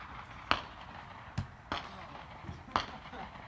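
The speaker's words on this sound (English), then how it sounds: "Sounds like somebody's doing a little skeet shooting across the street." Distant shotgun blasts from skeet shooting across the street, four or five muffled pops spaced irregularly over faint outdoor background noise.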